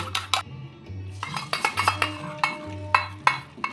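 Two eggs with black pepper and salt scrambled in a pan with a metal utensil, giving quick irregular clinks and scrapes against the pan, close and alone.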